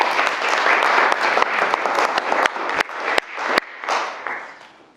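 An arts talk audience applauds as the speaker takes the stage: dense clapping up close that thins out into a few scattered, sharp individual claps before fading away.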